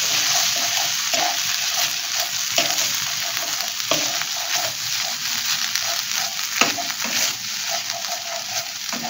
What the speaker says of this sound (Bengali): এবার এই টমেটো পিউরিটা যতক্ষণ না জল থাকবে ততক্ষণ আমি এটা ভেজে যাব